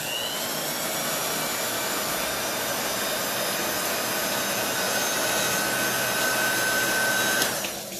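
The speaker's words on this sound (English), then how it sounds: "I'm just going to hit this with the heat gun real fast just to dry these." A heat gun blows steadily up close to dry chalk paste on a painted welcome sign, a loud continuous whooshing roar with a faint whine that holds for several seconds before cutting off near the end.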